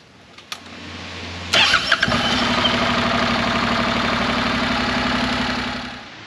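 A Honda NC700X DCT motorcycle engine cranks briefly, catches and settles into a steady, even idle that runs close and alone after a few clicks.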